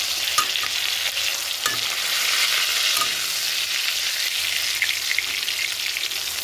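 Gurjali fish fry in hot oil in a kadai with a loud, continuous crackling sizzle and scattered sharp pops, close up and with no voices.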